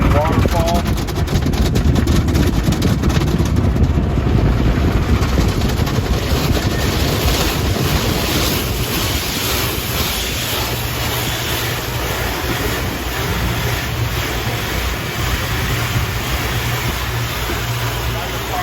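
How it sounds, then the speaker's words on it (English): A Purple Rain waterfall stage at the Fast Trac car wash in Marietta, Georgia sprays water over a car, producing a loud, steady rushing hiss with machinery rumbling underneath for the whole stretch. "Now we go into the Purple Rain waterfall."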